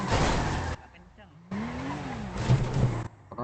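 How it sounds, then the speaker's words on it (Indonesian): A car in a GTA roleplay race, with loud engine roar and tire noise in two bursts separated by a quieter stretch, close and harsh, and voices talking over it. "Keras banget mobil."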